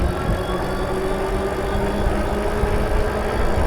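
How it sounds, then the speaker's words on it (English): A full-suspension PuckiPuppy Labrador Pro electric bike's motor winds up under full throttle while accelerating uphill, a constant loud droning whine over rolling road noise with no voices. "when I'm asking for all of its power like I am right now, you can hear it wind up"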